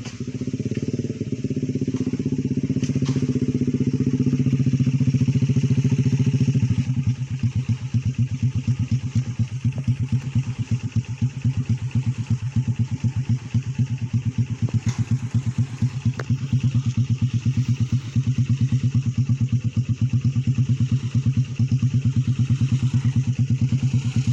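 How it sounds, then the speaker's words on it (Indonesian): A motorcycle engine idles and rumbles close by for a long stretch as it crosses a colonial-era bridge from 1926 in Bogor, with a steady rattling clatter that rises briefly as it moves across. "kebetulan ada yang motor yang sedang nyebrang"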